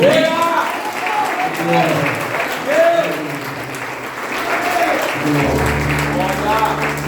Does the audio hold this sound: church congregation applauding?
yes